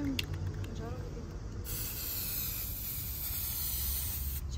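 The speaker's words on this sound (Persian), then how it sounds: "خب من تا حالا با این اسپری کار نکردم" A spray paint can hisses in a steady continuous spray, loud and close, with a brief break and faint rattling clicks near the start and end.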